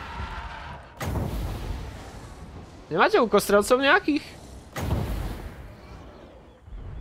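Artillery in the battle game Total War: Warhammer II fires in sharp booms, one near the start and another later, while someone talks and a high tonal game sound rises between them.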